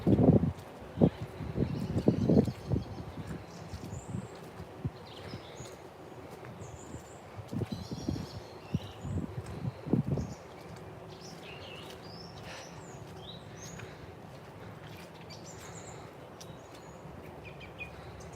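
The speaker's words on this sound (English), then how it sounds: "You can hear a few more birds now." Birds sing and chirp in short high calls scattered throughout, beside ponds on a hillside path near an industrial estate, over wind and rustling, with heavier handling thumps in the first ten seconds.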